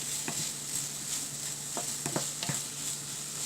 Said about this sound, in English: have to fry it with the onions for some time